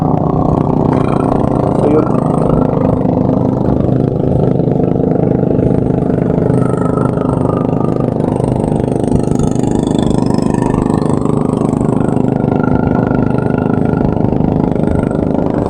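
A boat engine runs at full throttle, a steady loud mechanical drone with a dense low hum that holds for the whole stretch, while voices talk faintly over it.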